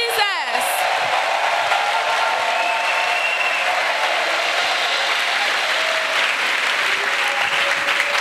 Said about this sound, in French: Let's clap for Jesus.